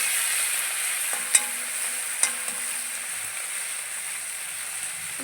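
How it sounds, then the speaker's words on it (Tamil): Tomatoes sauté in a pan for a crab pepper gravy, a soft continuous sizzle with two sharp utensil clicks against the pan partway through. "இப்போ இதில் பாதி தக்காளி வதக்கிறது போட்டோம்"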